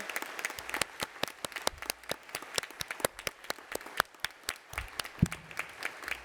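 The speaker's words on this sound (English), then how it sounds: "could you all join me in a big cheer?" A conference keynote audience claps together in a dense burst of applause that stays steady across the whole stretch, with a few louder individual claps standing out and no clear voices over it.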